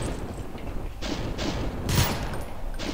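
Sniper rifle shots in the shooter game Call of Doom, a few loud sharp cracks standing out over a dense, noisy game soundscape, the strongest blast near the middle.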